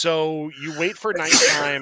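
A single person sneezes in a short, sharp burst in the middle of someone's ongoing speech, close and fairly loud.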